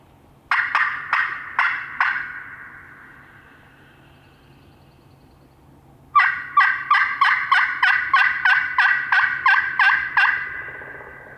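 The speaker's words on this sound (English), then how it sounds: "Did I actually hear a gobble?" A wild turkey gobbles loudly in open woodland, one rattling burst that fades with an echo, then after a pause a longer run of rapid pulsed gobbling notes.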